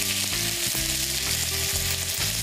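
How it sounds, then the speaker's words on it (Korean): Tomatoes sizzle loudly in hot olive oil and garlic in a frying pan, a steady close frying hiss that runs unbroken throughout, with no talking. "달궈진 후라이팬에다가 올리브유를 이렇게 두르고요"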